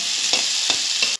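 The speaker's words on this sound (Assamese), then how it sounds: "এইখিনি ফ্ৰাই হোৱাৰ পিছত মায়ে ইয়াতে আলু এড কৰি দিম, এইখিনিও ফ্ৰাই কৰি ল'ব লাগিব।" Singhi fish and potatoes fry in a pan over a high gas flame. A close, steady sizzle is broken by three soft stirring scrapes.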